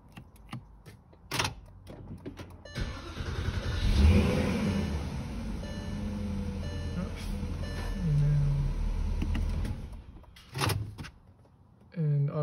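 A car engine cranks and catches on its first start through a newly installed push-start button, settling into a steady idle close by, with a voice speaking over the running engine.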